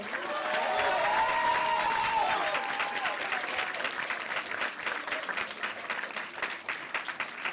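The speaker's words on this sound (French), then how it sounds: "on peut vraiment les applaudir très fort" A packed hall applauds the winners of an eloquence contest, sustained loud clapping from a large audience that thins slightly and grows more scattered toward the end, with a faint voice or tone rising through it early on.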